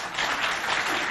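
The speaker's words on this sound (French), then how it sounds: "Applaudissez-les encore, s'il vous plaît" A short burst of audience applause for school performers at a traditional dance event, a brief wash of close clapping.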